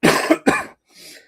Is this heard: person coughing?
yes